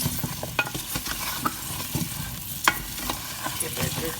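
Potatoes being stirred through curry in a hot pan, heard as close, loud scraping and clinking of the spoon over a soft sizzle, in quick irregular strokes with no talking.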